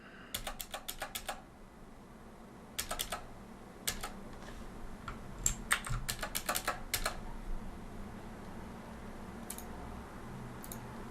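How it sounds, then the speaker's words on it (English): Keystrokes on a computer keyboard as a git clone command is typed into a terminal, coming in quick bursts of crisp clicks separated by short pauses, close and fairly quiet against a low room hum. "And now if I type git clone and then that URL again"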